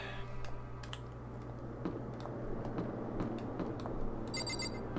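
Computer keyboard being typed on with scattered key clicks over a steady low hum, with a brief electronic ringing tone near the end; no speech.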